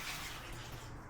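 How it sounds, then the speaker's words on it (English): Hot water pours continuously into a container, a soft, steady rushing splash at low volume with no talking. "So first, I'm going to pour my hot water in here."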